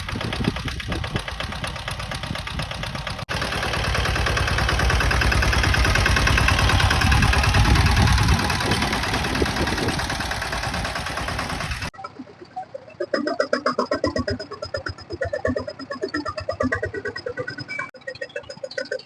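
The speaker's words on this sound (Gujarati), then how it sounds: "તો હવે સનેડો ઘડીક વાર રનિંગ કરીએ." A Saneda tractor engine runs continuously, a loud, rough, droning roar that swells through the middle, then drops abruptly into a lighter, rapid chugging rattle for the final stretch.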